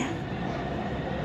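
A Shenzhen metro train rolls along on the way to Xiameilin station, a dense, steady rumble of wheels and carriage noise at constant loudness with no voices.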